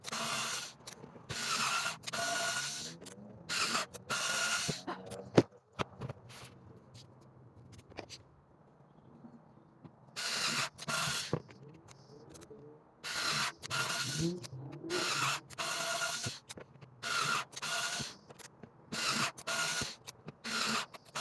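A drill bores holes through a plastic bin for a DIY vermicompost tower, loud buzzing bursts repeating in an irregular rhythm with short pauses between holes, close by and alone.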